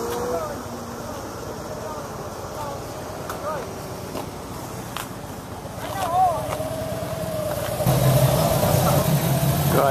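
A car engine idles steadily nearby, a low continuous rumble that swells slightly near the end, with some voices faintly in the background.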